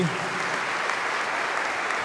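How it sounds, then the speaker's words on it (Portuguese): A church congregation at a Lenten Sunday Mass applauds a youth group celebrating forty years, a loud, dense, continuous burst of clapping that fills the whole moment. "Vamos dar uma salva de palmas para o JUB."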